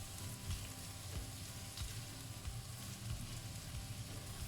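Chopped garlic and onion fry in a pan for a spicy clam and chorizo soup, giving a steady, close sizzle with small crackling pops and no talking.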